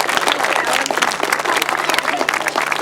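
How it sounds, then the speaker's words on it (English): Crowd at a grasstrack race meeting applauds the organising club, a thick, steady burst of many hands clapping with voices mixed in and a low electrical hum underneath. "a round of applause for the ASTRA Club"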